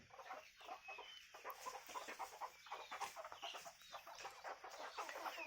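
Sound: rooster clucking

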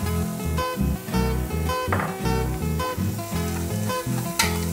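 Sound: onion and bacon stock sautéing in a pan

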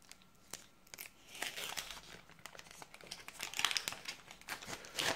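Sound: tearing open a Panini sticker packet

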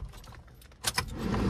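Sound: inserting the ignition key into a Maruti S-Presso

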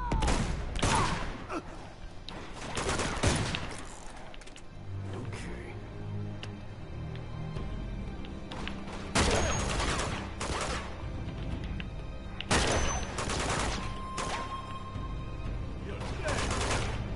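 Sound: gunfire in video game Uncharted 2

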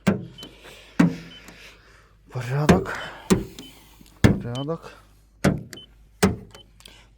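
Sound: Renault Kangoo rear doors being opened and closed

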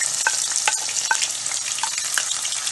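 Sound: onion, garlic and mustard seeds sautéed in oil

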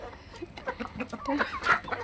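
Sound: chicken, a laying hen

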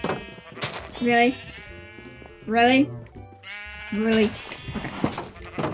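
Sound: sheep bleating in Minecraft video game

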